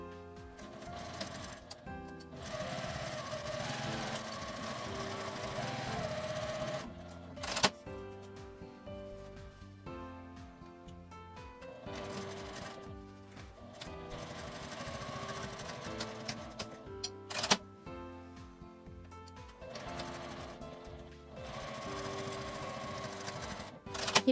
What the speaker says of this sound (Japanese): 返し口を開けて1センチの縫い代で縫います。